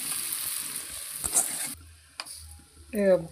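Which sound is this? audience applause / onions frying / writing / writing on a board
onions frying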